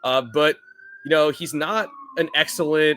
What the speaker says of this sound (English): I apologize for the siren.